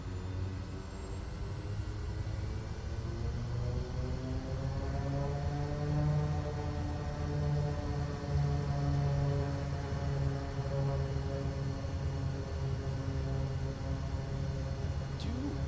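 The turboprop engine of a Kodiak 100 in Microsoft Flight Simulator 2024 drones steadily at high idle with props full forward, a low even hum with a slowly rising whine, faint and continuous throughout.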